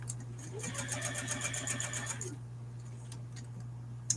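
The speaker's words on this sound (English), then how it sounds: "I need to sew these at the top, 1/4 seam allowance again" A sewing machine stitches the top seam of an ID holder for a lanyard in a fast, even run of needle clicks that stops about halfway, leaving a steady background hum and a final click.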